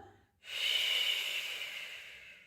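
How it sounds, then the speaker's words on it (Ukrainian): A long, steady breath pushed out through the mouth during a breathing exercise, preceded by a short inhale, heard close and alone. "Довдихнули через ніс. Видих через рот."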